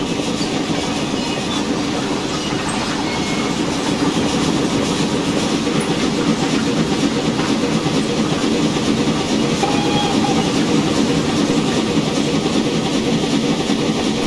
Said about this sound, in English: The actual locomotive sounds are not that loud